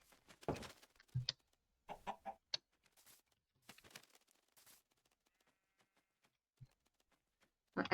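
Chicken clucking in Minecraft: bursts of short, close clucks that come and go with brief silences between them, fairly loud and with no talking.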